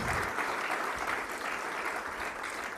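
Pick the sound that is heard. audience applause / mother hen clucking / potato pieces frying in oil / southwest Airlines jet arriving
audience applause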